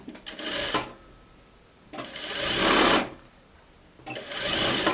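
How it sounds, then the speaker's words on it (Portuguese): Sewing machine stitching a strip of fabric for a shirt, running in three bursts of steady mechanical whirring separated by short pauses, close and clear with no talk. "Costura desavessa para ficar bem bonitinho aqui."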